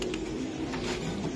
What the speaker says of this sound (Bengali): এই যে ভাই, এই যে আর একটা কবুতর, এটা কি কবুতর দাদা?